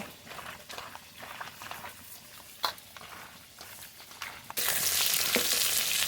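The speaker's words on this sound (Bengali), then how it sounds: "মাছ খুব ভালো করে ভেজে নিয়েছি" Tilapia fish frying in mustard oil after being coated with ginger-garlic paste, cumin, coriander, dry chilli, salt and turmeric, giving a steady close sizzle with occasional pops that grows into a louder, denser hiss near the end.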